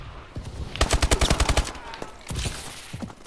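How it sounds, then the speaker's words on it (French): A grenade launch and automatic gunfire in the Call of Duty video game, with a rapid burst of about a dozen close, loud shots followed by a second shorter volley. "Ça c'est le lancement de grenade."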